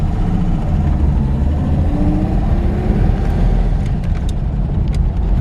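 A 1953 Chevrolet 210 sedan with its original six-cylinder engine and three-speed column shift cruises down the road, the engine droning low and steady from inside the car with continuous road rumble.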